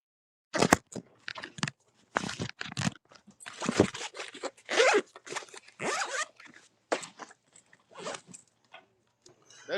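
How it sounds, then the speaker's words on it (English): A zipper being pulled in many loud, close, ripping bursts across several seconds, sounding unusually harsh. "That is like the loudest zip I ever heard in my life, King."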